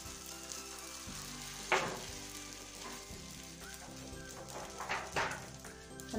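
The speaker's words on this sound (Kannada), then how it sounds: "ಈ ತರ ನಿಧಾನವಾಗಿ ನಾವು ಹೋಳಿಗೆಯನ್ನ ತವಕ್ಕೆ ಹಾಕಬೇಕಾಗತ್ತೆ." Dates holige, a sweet flatbread, frying on a hot tava: a steady, quiet sizzle runs throughout, with a few brief louder crackles as the bread settles and is handled.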